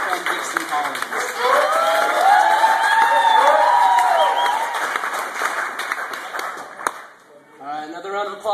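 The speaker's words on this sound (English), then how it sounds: "Please keep your hand going" Audience at a youth spoken-word poetry event applauding and cheering, a dense steady clapping roar with whoops and shouts over it, tapering off before a voice speaks at the end.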